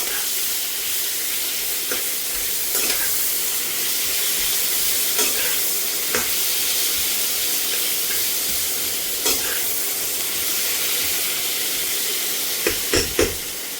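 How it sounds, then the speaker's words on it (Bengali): Chopped onion fries in butter in a hot pan with a chicken dish underway, giving a loud, continuous sizzle and hiss, punctuated by occasional scraping strokes of a spoon as it is stirred, close up and without speech. "এবার আমি এই পেঁয়াজ কুচিটা দিয়ে দিলাম। পেঁয়াজ কুচিটাকে আমি একটু লাল লাল করে ভাজবো।"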